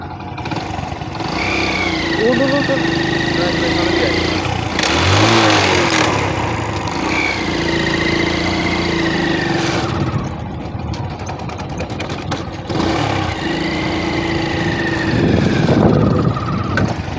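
A trawler boat's engine at Gangasagar drones steadily close by, its pitch rising and falling in a few surges while wind and crowd noise run underneath.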